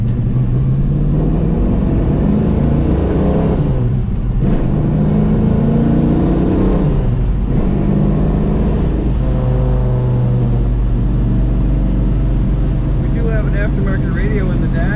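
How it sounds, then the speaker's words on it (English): A black 1969 Chevrolet Nova two-door sedan with a six-speed manual revs hard through an aggressive exhaust, loud and close, with a deep rumble and rising and falling engine pitch across repeated blips. "Nice aggressive exhaust tone to this car."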